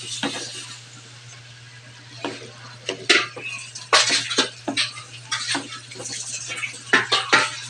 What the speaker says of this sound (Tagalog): ilagay ko na yung Baguio beans